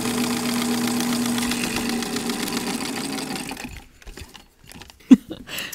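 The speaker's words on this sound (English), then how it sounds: "while I'm here at the machine, I am going to just sew my cuffs together" Sewing machine stitching fabric sleeve cuffs together, a rapid mechanical whirring rattle running steadily for several seconds, then stopping and leaving faint handling clicks and one sharp knock.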